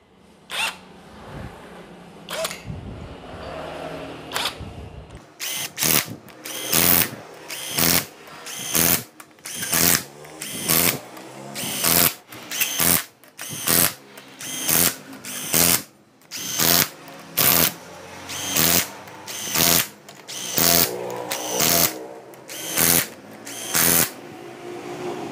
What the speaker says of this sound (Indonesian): rapatkan dulu dari kesemua baut dengan kunci impact